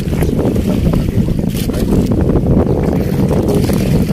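Strong wind roars and buffets the microphone, a loud, continuous rumbling gust with no voices.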